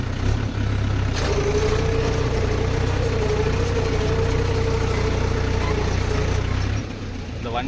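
A Mahindra Jivo tractor engine runs steadily at idle, a continuous low diesel rumble with a faint whine that holds for several seconds before easing off near the end.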